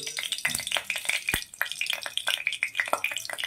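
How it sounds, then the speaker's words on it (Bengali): Panch phoron spices crackling in hot oil, a dense busy sizzle with rapid sharp pops and spits throughout, close and loud with no voices. "এবারে ওই তেলের মধ্যেই আমি দিয়ে দিচ্ছি আরও খানিকটা তেল। ফোড়নের জন্য আমি দিয়ে দিচ্ছি একটু পাঁচফোড়ন"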